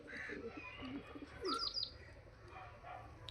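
A Malbai breed pigeon coos faintly nearby, giving a few soft, low notes mixed with small chirps and a brief flutter in a quiet setting.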